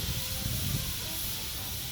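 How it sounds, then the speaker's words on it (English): Water splashed onto a hot cast iron griddle under a metal pan, steaming a cheese-topped bacon burger, hisses and steams in a steady broadband rush through the whole moment. "throw a little bit of water down, and let that bad boy steam in"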